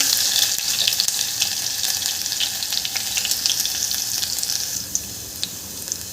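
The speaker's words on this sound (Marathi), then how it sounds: "यामध्ये आपल्याला आलं लसूण याची पेस्ट घालून घ्यायची आहे" Ginger garlic paste fries with cumin in a pan, producing a loud, continuous, watery hiss close by with faint crackles and a few soft knocks.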